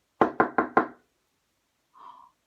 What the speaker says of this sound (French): on entendit frapper violemment à la porte